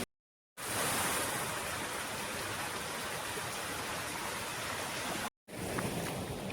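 Rain-swollen stream near a village cremation ground in the Konkan countryside, water rushing and gurgling in a steady broad wash, close and loud, cut by two short silent gaps.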